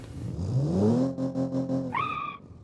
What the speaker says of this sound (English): I want to be able to hear the engines really good